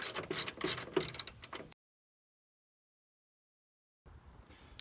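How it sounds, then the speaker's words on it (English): A ratchet tightens front suspension bolts on a Subaru WRX, giving a quick burst of close, loud metallic clicking for under two seconds, then silence and faint shop background. "We're gonna tighten these down."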